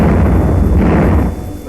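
Wartime street fighting in Paris with German tanks firing: a dense, loud rumble of artillery-like blasts and gunfire fills the whole stretch, easing slightly near the end, with no talk.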